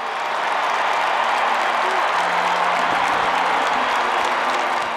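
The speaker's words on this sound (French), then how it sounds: "Puis la Papa Mobile arrive enfin sous les acclamations." A stadium crowd at the Vélodrome in Marseille cheers and applauds as the Popemobile arrives for a papal mass, a loud continuous roar of many voices with a low horn-like tone partway through.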